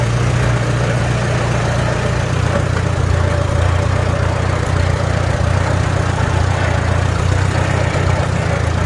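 A Farmall A tractor engine runs at a steady, quiet idle-like chug, with a low, even drone sustained throughout and no talking.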